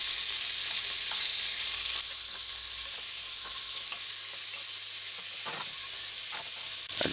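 Beef chunks sizzle loudly and steadily in a hot pan, a close, continuous frying hiss with occasional soft scrapes as the pieces are turned, and no talking.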